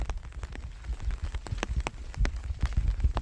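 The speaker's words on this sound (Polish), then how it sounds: "Ja myślę, że ten deszcz jest potrzebny." Rain falls on a September day, a close, continuous patter of scattered drops tapping irregularly on surfaces, with no voices.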